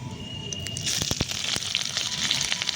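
Panch phoron and a bay leaf dropped into hot oil, crackling and sizzling up close, with a few sharp pops as the spices hit the pan.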